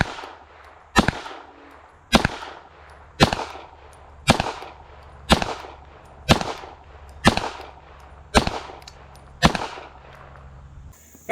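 Ten sharp pistol shots from a Beretta APX A1 firing CCI Blazer ammunition on an outdoor range at a 25-yard target, evenly spaced about a second apart, each a loud crack with a short decaying tail.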